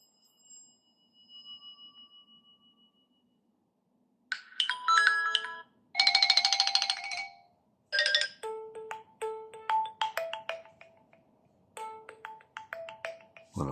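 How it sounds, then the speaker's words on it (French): Several TCL 40 NxtPaper phone ringtones play one after another: single soft tones first, then bright chiming melodies and beeping patterns, each short and separated by brief pauses. "Les vibreurs et sonneries du téléphone ici."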